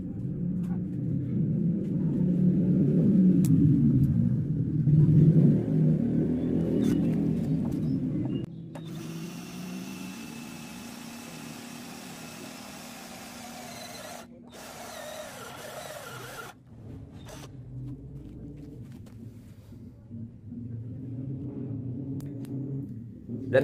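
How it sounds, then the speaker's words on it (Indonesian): A cordless drill with a pyramid bit grinds slowly into hollow steel tube, loud and laboring at first, then quieter stretches of whirring with brief pauses between bursts. "Dan saya akan coba mengebor media yang sama dengan mata bor piramid seperti ini"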